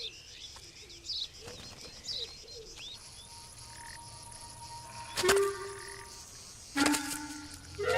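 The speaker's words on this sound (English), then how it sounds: "that shares species even with China, like these azure-winged magpies, which are found only here and in parts of Asia." Azure-winged magpies call outdoors in a wild river valley, with scattered chirps and calls from other birds around them and two louder bursts of sound near the end.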